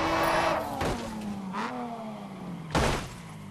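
Race car drifting in Grid 2: a sustained engine drone shifting pitch as the car slides, broken by short bursts of tire screech and a sharp noisy hit near the end, with no talking.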